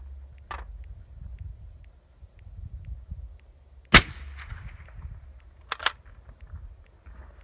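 A 6.5 Creedmoor rifle fired through a Thunder Beast Ultra suppressor: one sharp, loud, muffled crack stands out midway, with a few fainter clicks before and after over low outdoor rumble, and no talk.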